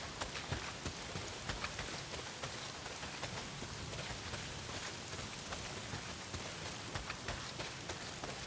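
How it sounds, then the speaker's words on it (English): Heavy rain pours steadily in the Days Gone video game, a dense, even hiss of drops with faint scattered patters, moderately quiet and unbroken throughout. "Well, not if it's pissing down rain."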